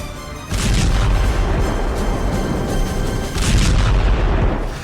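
Missile fire and explosions from Hezbollah anti-tank missiles and multi-barrel rocket launchers against Israeli tanks, with heavy booming blasts and a dense roar that swells twice, loud and continuous.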